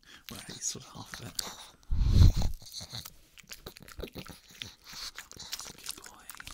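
Pug dog crunching and biting on a beef strip treat at close range, with a loud burst of chewing midway and softer mouth sounds and quiet whispered talk throughout.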